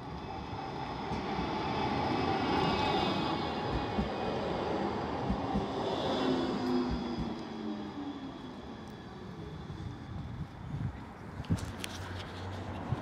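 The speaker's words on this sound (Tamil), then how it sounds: "நம்ம ட்ரெயின் வந்துருச்சு." A train rumbles into a station in Poland and slows, its low roar and rattling wheels building then easing, with a brief squeal and clatter near the end.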